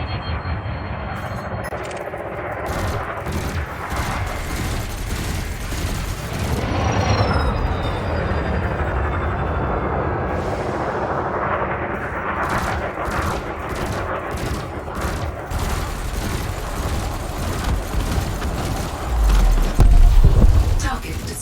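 Multi-cannon fire at a drone in Elite Dangerous rattles out in rapid mechanical bursts over a constant engine rumble, with sharp repeated shots growing denser toward the end.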